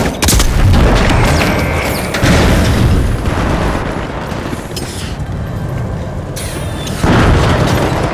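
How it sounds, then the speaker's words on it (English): A pyro grenade in The Finals video game bursts with heavy booming blasts that flare up again in waves, loud and close, mixed with crackling game effects. "Throwing pyro grenade!"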